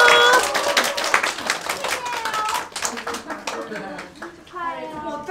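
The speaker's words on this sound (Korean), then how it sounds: "박수." An audience at a book launch for a calligraphy essay collection claps for the author, a dense burst of applause that slowly thins out while a voice talks over it.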